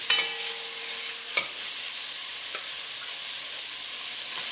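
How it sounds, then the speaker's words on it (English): Marinated beef sizzles in a hot pot over high heat for a beef curry, a loud, steady hiss running throughout, with one sharp utensil clatter near the start. "my heat is on high, and in goes all of that lovely marinated beef"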